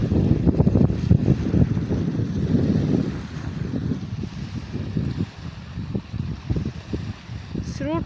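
Strong wind blows by a river with a fast current and a ship nearby, heavy gusts buffeting the microphone in loud rushing bursts, with someone talking over parts of it.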